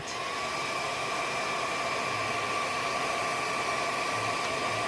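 A heat gun blows steadily on a vintage Hot Wheels blister card, a constant close airy whoosh with a faint motor whine beneath it and no pauses.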